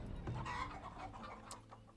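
Chickens cluck in a Farthest Frontier village farmyard, a busy overlapping flock heard close and steady, with a few sharper calls over a low background din and no talking.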